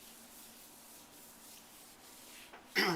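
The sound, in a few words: gloved hand rubbing sealer onto granite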